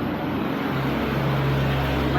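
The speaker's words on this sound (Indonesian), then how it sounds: "Cuma jalannya ini terlalu banyak truk-truk gede, jadi agak berisik" Big trucks pass on a busy road beside a roadside eatery on the Padang to Bukittinggi route in Sumatra, producing a loud, continuous engine rumble and road roar with a steady low hum throughout.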